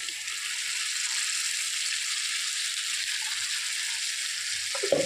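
Spinach paste for palak paneer cooking in a pan, a steady soft sizzle holding evenly throughout, with a small clatter at the end.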